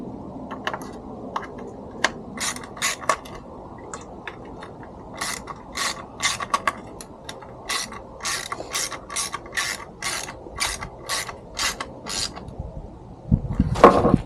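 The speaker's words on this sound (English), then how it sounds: "I'm not going to over tighten these, so they're just going down until I start to feel some resistance." Screws being tightened on a Jeep Gladiator third brake light, giving a steady run of close, sharp ratcheting clicks in quick irregular bursts that continue throughout.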